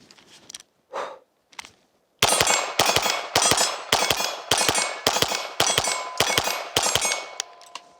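A Taurus RPC fires at a shooting range: after a few quieter knocks, roughly a dozen loud, sharp shots ring out in a fairly even rapid series, each with a bright metallic crack and short decay.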